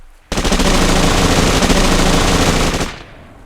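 Sustained automatic gunfire played as a sound effect during a tabletop role-playing game session, a dense, loud, rapid burst running about two and a half seconds before cutting off, with no talking over it.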